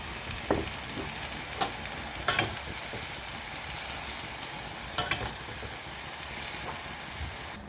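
Garlic, green chilli and spices frying in a pan of hot oil, part of a taro and taro leaf vegetable dish, heard as a soft steady sizzle with a few sharp clinks and scrapes of stirring, no voices.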